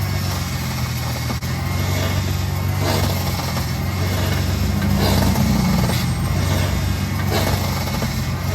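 Worn front lower control arm bushings on a 1994–2004 Ford Mustang produce a steady engine rumble, with dull clunks from the front suspension under it, close and loud throughout.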